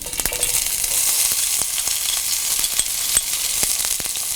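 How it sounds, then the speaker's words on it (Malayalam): Crushed small shallots and curry leaves sauté in hot oil, a steady close sizzle with scattered sharp crackles and pops as the mixture is stirred. "ചെറിയ ഉള്ളി നന്നായിട്ട് ഇതുപോലെ ഇളക്കിക്കൊണ്ട് വേണം വഴറ്റിയെടുക്കാൻ"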